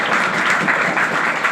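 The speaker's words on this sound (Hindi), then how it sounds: "जोरदार ताली" Loud, dense applause from an audience at a ceremony honouring a matriculation student, a continuous burst of many hands clapping close by.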